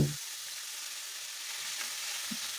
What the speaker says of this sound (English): Give it a stir and cook this on a medium heat.